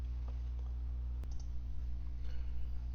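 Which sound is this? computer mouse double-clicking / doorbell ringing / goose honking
computer mouse double-clicking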